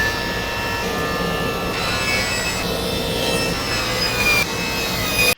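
A saw runs steadily through wooden boards to make French cleats for a shop wall, a close, continuous whirring rasp that shifts pitch slightly a few times before cutting off abruptly at the end.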